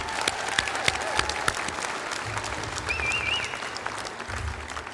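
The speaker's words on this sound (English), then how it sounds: "how about we have some clapping for you who have worked so hard and been so successful" Audience at a King County family reunification ceremony gives sustained, fairly loud applause, many hands clapping steadily with a faint crowd murmur underneath.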